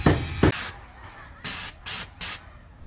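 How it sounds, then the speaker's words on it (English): A spray gun applies paint stripper to a heritage building, giving several short, sharp hissing bursts separated by brief pauses, with an earlier louder burst of noise at the start. "to apply paint stripper, I'm using a spray gun"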